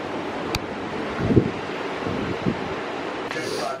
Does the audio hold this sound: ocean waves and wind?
yes